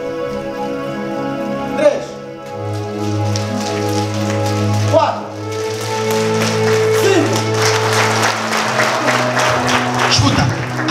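A church congregation imitates rain with finger snaps and claps, starting as a light scattered patter and swelling into a dense, heavy downpour of hand noise, while a leader speaks over it and counts aloud.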